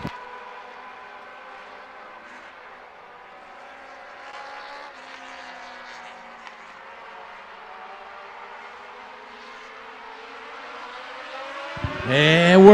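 Engines of 3/4 modified race cars idle and build at Volusia Speedway before the green flag of the feature race. A low, steady engine drone holds, then climbs sharply to a loud rising roar at the end.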